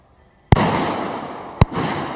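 Two loud sniper rifle shots fired from a balcony at a SWAT competition, a sharp crack followed by a long rolling echo, then a second crack about a second later that echoes again.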